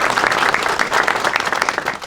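Dense audience applause at a groundbreaking ceremony for the Fentress County Higher Education Center, a steady wash of many hands clapping close and loud throughout, with no talk over it.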